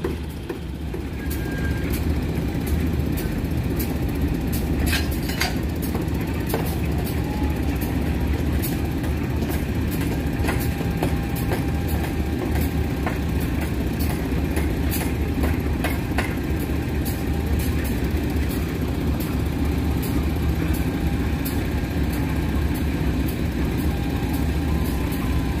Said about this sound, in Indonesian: Kereta api Argo Parahyangan melintas langsung stasiun Padalarang.